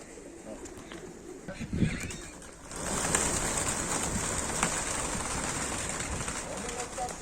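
Pigeons cooing softly amid a dense flutter and rustle of many birds in a large flock, with a brief burst of voice early on, close and continuous.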